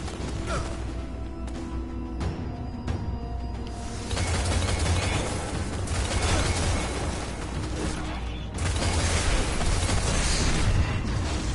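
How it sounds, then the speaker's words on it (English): Grenade blasts in a first-person shooter video game, heard as a dense roaring, rumbling wall of noise that swells sharply twice, with crackling debris and gunfire-like texture throughout and no speech. "Throw a grenade down there."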